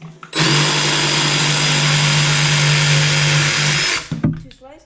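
A DeWalt 331B jigsaw runs at full power through one slice, a loud steady motor whine with a strong hum lasting about four seconds, then stopping, followed by brief clatter and a voice.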